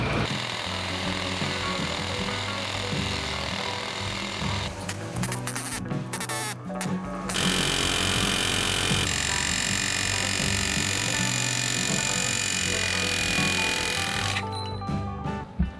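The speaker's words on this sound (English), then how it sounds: "I'm gonna cut a relief cut in this inner sleeve and then try to hammer it out" A metal bushing inner sleeve is driven out of a Lexus IS300 rear subframe with rapid, loud, continuous mechanical hammering that chatters in long runs, briefly breaking up and pausing before resuming at full intensity.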